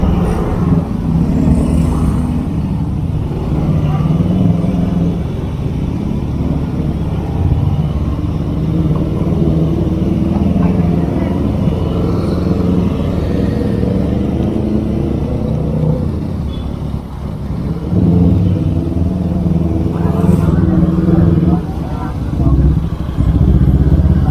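Jammed cars and motorcycles crawling along a narrow street on Jalan Radio, a continuous close rumble of idling and creeping engines with someone talking over the traffic.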